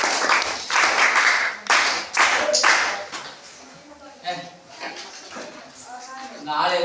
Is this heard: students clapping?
yes